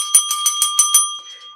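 A small bell is rung about six times in quick, even succession, bright and close, its ring lingering briefly before fading.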